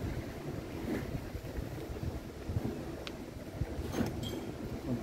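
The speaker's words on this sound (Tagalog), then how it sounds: "yung dagat guys, so ayan yung ating tabing dagat" Steady wind buffeting the microphone at a seaside shore at sunset, with broadband rush of sea and surf beneath it, continuous and moderately loud, a few faint brief clicks and distant sounds mixed in.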